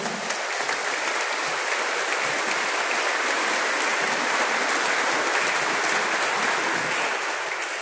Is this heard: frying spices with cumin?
no